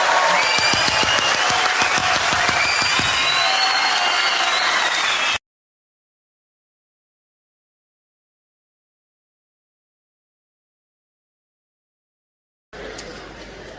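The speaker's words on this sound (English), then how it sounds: "give yourself a round of applause" Applause and crowd noise from a stand-up comedy audience, a dense burst of clapping for several seconds that cuts off abruptly into silence, then briefly resumes at the end.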